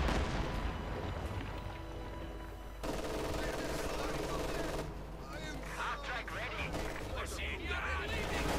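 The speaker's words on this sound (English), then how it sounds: "MD-42 grenades here, ending up doing a lot more damage to the Maxim" Grenade blasts and bursts of machine-gun fire from a Company of Heroes 2 battle, with MD-42 grenades hitting a Maxim position; dense, layered combat noise with a voice talking over it throughout.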